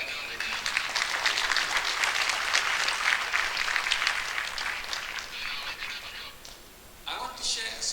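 Conference audience applauding at a closing session, a broad steady wash of clapping that fades slightly toward the end before a brief renewed burst.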